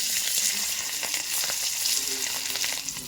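A fish tail fries in a pan, giving a steady, close crackling sizzle with dense popping throughout and no talk.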